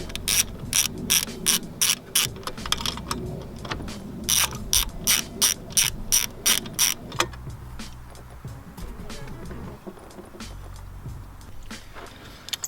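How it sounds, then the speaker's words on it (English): Rapid ratchet clicking in repeated bursts from a ratchet with a 12 mm socket loosening the bolts on a Subaru A/C idler pulley bracket. The clicks are close and loud, then give way to quieter fumbling and metal handling. "we're going to take that 12 again and just loosen these top bolts right here"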